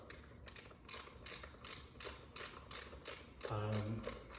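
Bolts get tightened with a ratchet during assembly of an Ariel Rider X Class 52v step-through electric bike, a close, rhythmic run of quick clicking bursts, about ten strokes, with a deeper clunk near the end.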